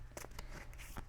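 Tarot cards are shuffled by hand in a few quick, soft riffling bursts, faint and close.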